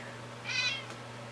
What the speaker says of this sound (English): Hey, there's Mel Kitty.